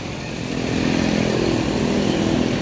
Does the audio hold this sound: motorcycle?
yes